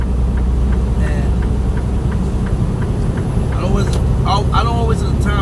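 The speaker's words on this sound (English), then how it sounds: "I apologize again for bringing this audio under the sound of the engine" A truck rig's engine drones steadily while driving, a continuous low rumble filling the background beneath someone talking throughout.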